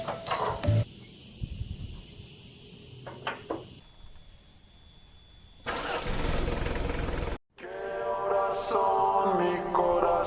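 A four-cylinder diesel car engine in a Dongfeng vehicle cranks and fires up, then settles into a loud, rough, steady running clatter, broken by a brief cut before the engine noise resumes.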